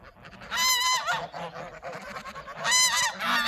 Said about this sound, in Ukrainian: А це наше стадо гусей.